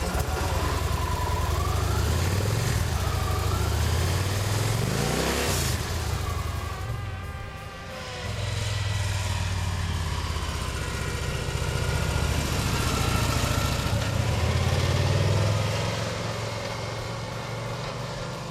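Victory Cross Country motorcycle with a 106 cubic inch Freedom V-twin engine starting up and settling into a steady, loud, close idle with a low throbbing pulse, a brief revving swell midway, no talking.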